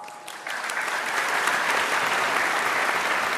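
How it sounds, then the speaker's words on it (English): A crowd applauds visiting performers from Bali with dense, steady clapping that swells in the first half-second and then holds at an even, full level throughout. "Let's give them another round of applause."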